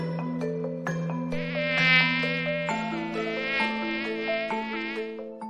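Mosquito buzz rendered as a steady high-pitched whine over a few seconds, with tones shifting and a melodic backing running underneath, loud and close with no talk.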